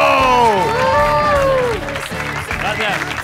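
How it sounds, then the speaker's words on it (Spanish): Studio audience at a Spanish radio comedy show applauding and cheering loudly, with a host shouting over the clapping. "Recibamos con un aplauso tecnológico a David Broncano!"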